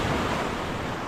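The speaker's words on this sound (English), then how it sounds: "Getting those waves." Ocean waves break on Boca Chica beach in a steady, close, continuous roar of surf, with some wind buffeting the microphone and no voices.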